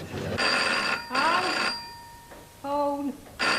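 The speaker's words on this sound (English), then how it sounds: "Phone. All right, I'll get it." An old telephone bell rings in loud, repeated bursts with brief pauses between them, clear and close in a quiet room.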